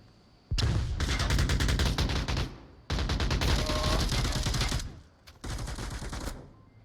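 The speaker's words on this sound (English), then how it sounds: "Early shots for a quick exchange from Soldiers and Sandy there" Gunfire trades in a competitive tactical shooter match, with two long sustained bursts of rapid shots followed by a shorter burst, loud and close, with no talk over them.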